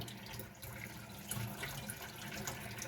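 Warm water running into a vessel of rajma kidney beans set to soak, a steady close pouring wash with a faint trickle and no voices.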